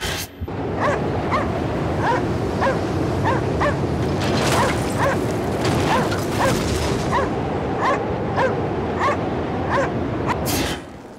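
A dog in the video game Cryostasis barks repeatedly in a steady, evenly spaced series of sharp yips over a continuous mechanical rumble aboard an icebreaker, loud and close throughout.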